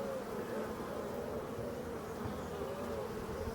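Honeybees buzzing steadily around beehives under pressure from Asian hornets, a dense continuous drone heard close and even throughout, with no talking.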